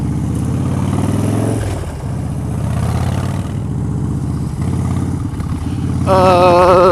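A Harley motorcycle engine drones steadily up close while riding, with a rough, throbbing tone and wind rush; a higher whine joins near the end.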